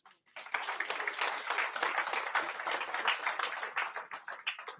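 A meet-and-greet audience claps hands in a burst of lively, fairly close applause that starts abruptly, holds steady and begins to thin out toward the end.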